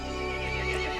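An angry horse neighing in the Resident Evil Village video game, one short, loud, close whinny with a harmonic, wavering tone, heard alone.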